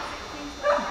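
A playful puppy gives a short, high yip and bark near the end of a brief moment, close by, with faint background murmur.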